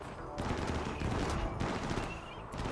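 Heavy shotgun fire loaded with slugs in the video game RimWorld, several loud overlapping blasts in quick succession forming a continuous barrage, with occasional brief pauses between volleys.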